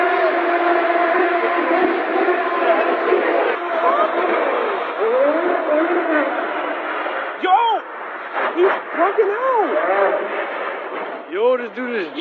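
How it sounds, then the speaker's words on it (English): Porsche Carrera GT racing through New York City streets, engine note rising and falling in repeated revving sweeps and echoing off buildings, with people talking over it. "I would never think that I would ever see a multi-million-dollar car on three wheels racing down New York City during a global pandemic"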